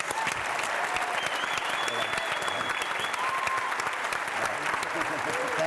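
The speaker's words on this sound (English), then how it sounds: "You give him a round of applause" Sustained audience applause fills a charity event in the Richmond area, a dense steady wash of many hands clapping at even loudness throughout, with faint crowd murmur underneath.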